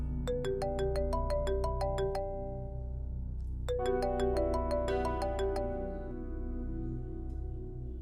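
A phone ringtone plays two bursts of bright repeating chime notes over a continuous low background bed, with no talking.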